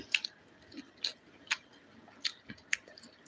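Close, crisp crunches of teeth biting into crunchy fried country chicken, repeating every half second or so with soft chewing between.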